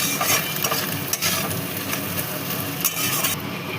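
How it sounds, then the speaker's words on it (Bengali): Fish roe and chopped tomato frying together in a pan, a loud, close, continuous sizzle with the scrape of a spoon stirring and a few light clinks. "একসঙ্গে ভাজা ভাজা করে নেব।"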